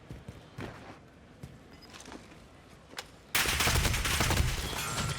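Gunfire in Call of Duty during a pro league esports match, with scattered faint shots and footsteps followed by a sudden loud, sustained burst of rapid fire.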